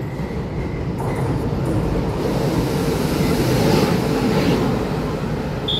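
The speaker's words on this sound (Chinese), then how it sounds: "屏东发车九三一号基隆的 PP 自强号" A Taiwan Railways PP Tze-Chiang express bound for Keelung rumbles past close by, a loud, steady rolling roar of wheels and carriages that holds throughout without any talk.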